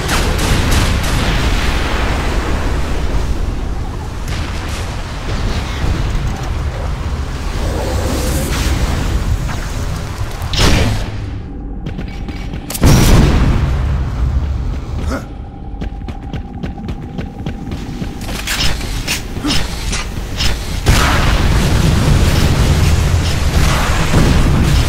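Heavy explosions from a Redeemer blast in Unreal Tournament 3 on the Downtown map, loud rumbling booms with sharp bursts around the middle and dense continuous game noise throughout.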